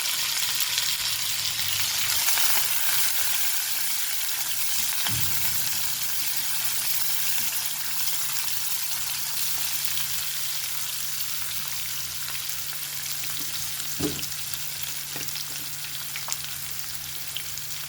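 Curry leaves, green chillies and onion frying in a pan, giving a steady close sizzle with occasional soft stirring scrapes and light pops throughout.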